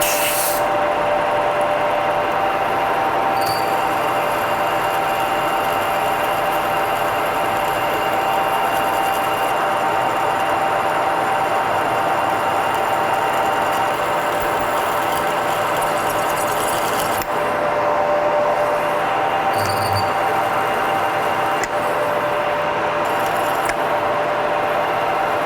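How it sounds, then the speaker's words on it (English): A radial drill boring deep holes into a lathe tailstock, a steady grinding, rubbing machine drone with a constant motor hum that runs unbroken and fairly loud, with a few brief clicks. "so let's come in here and get these holes drilled."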